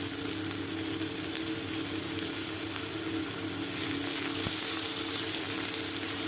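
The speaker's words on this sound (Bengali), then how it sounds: "এটাকে একটু হালকা করে ভেজে নেব, খুব লাল লাল করবো না" Thinly sliced medium onion with chopped garlic frying in oil in a pan, a steady close sizzle that holds throughout, with one sharp tap near the end and no talking.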